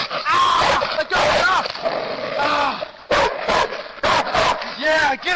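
A dog barks, yips and whimpers in rapid bursts during an animal attack, loud and close, with people shouting over the commotion.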